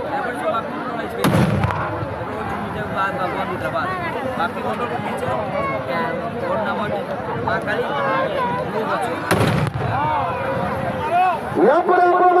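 Firecrackers bursting at a fair in Odisha, two loud sharp bangs some seconds apart over a lively crowd with people talking throughout.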